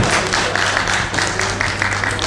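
An audience at a national audit conference applauds to welcome a speaker, a steady, dense wash of clapping that runs loud and unbroken from start to finish.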